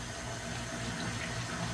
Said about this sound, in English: Just gonna run some hot water in there